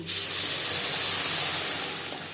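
Masoor lentils tipped into hot oil in a pan for tart dal, giving a sudden loud sizzling hiss that fades slightly over a couple of seconds, with no voices.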